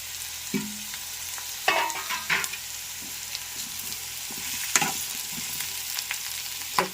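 Radish pieces fry in a hot pan and are stirred for mullangi pulusu. A steady sizzle runs underneath, broken by several sharp scrapes and clinks from the stirring.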